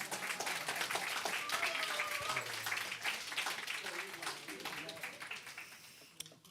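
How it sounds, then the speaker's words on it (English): A church congregation applauds for a woman at a Sunday service, broad sustained clapping filling the room with some voices and music mixed in, gradually thinning toward the end. "Can we give Ava another round of applause?"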